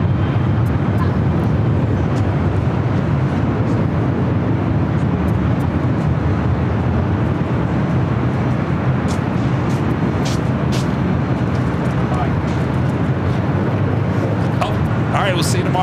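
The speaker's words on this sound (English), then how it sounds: "Speedbird taking off there on the south side" A British Airways airliner takes off from the south side of Los Angeles International Airport, a steady loud roar of jet engines that holds through the whole stretch alongside radio chatter and talk.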